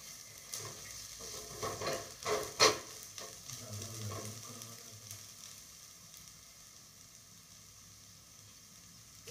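Potatoes frying in a pan with garam masala stirred in, a steady soft sizzle with scraping stir strokes up close early on, then settling into a quieter constant frying hiss.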